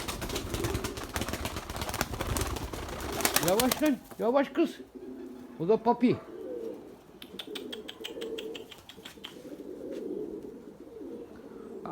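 Domestic pigeons, white fancy flying birds, coo and flutter their wings in a brief burst of flapping and calls, while someone speaks close by over the birds.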